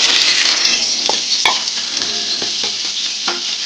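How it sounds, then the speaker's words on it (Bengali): Potatoes fry in hot mustard oil in a kadai with a loud, bright, continuous sizzle, interrupted by a few scraping stirs and clinks of a spoon against the pan. "ওই কড়ার তেলে আমি দিয়ে দেবো আলু"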